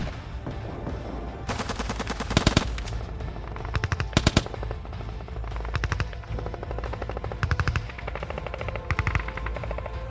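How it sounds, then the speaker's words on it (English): Soldiers in combat fire at a building held by the enemy, loud close machine-gun bursts and single shots in rapid rattling volleys, with a few sharper heavy cracks standing out. "Firing at the building with the enemy inside, the soldiers withdraw."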